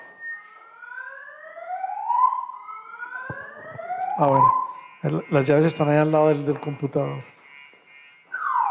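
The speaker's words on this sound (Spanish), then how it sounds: "eso es la alarma que nos está diciendo que ya casi vamos a terminar." An electronic alarm marking the end of a church history class sounds as a series of rising, sweeping electronic tones, repeated several times. Afterward someone talks briefly and the tone returns at the end.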